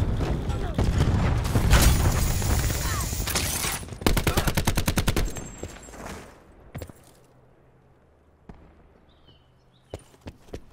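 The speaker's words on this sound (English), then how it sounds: "Grenade inbound." A grenade blast and heavy bursts of automatic gunfire in the game Call of Duty Black Ops 4, loud and dense at first, then giving way to scattered distant shots and thuds as things quiet down.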